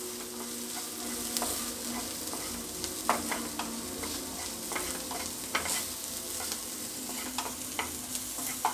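Chopped onions sautéed lightly in a pan for an egg omelette, giving a steady close sizzle throughout with frequent scraping stirs and small clicks of a utensil against the pan, with no talking.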